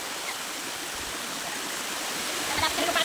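A mountain stream rushes steadily nearby, a constant broadband roar of flowing water with faint voices underneath.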